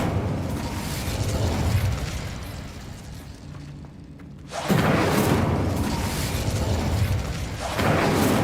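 An Incendio fire spell cast in Hogwarts Legacy, loud whooshing bursts of flame filling the sound, with a brief lull before another blast and a third burst near the end.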